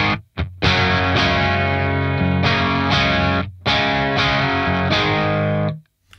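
Electric guitar played dry through a Game Changer Audio Light Pedal, sustained distorted chords strummed in a few bursts with brief gaps, loud and close, no voices.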